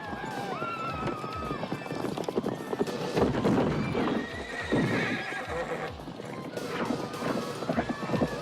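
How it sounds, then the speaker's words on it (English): Horses gallop and neigh during film stunt riding, with rapid clip-clop hoofbeats, loud whinnies and busy action-scene sound throughout. "it's pretty good horse stunts, you know, horse riding."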